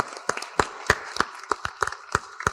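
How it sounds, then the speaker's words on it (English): At a school committee candidate forum, a small audience gives sparse, irregular applause: around nine or ten distinct claps heard up close, with no steady roar of a large crowd. "Let's have a round of applause for them."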